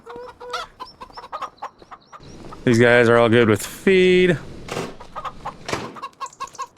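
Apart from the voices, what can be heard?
chickens clucking on a farm in Farming Simulator 25 video game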